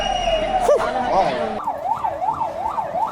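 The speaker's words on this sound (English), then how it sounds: "There's an ambulance there, I think." An ambulance siren wails during a street protest in Nepal, its rising and falling tone cycling steadily and fairly close, preceded by a brief different siren sweep, with voices talking underneath.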